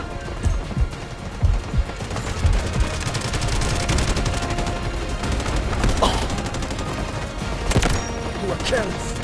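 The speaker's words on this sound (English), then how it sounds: "Requesting artillery barrage on cordon. Over. Roger that. Artillery barrage incoming." An artillery barrage in the mobile shooter Delta Force Mobile brings dense, continuous rumbling explosions and rapid gunfire, with sharp louder blasts that stand out from the steady roar throughout.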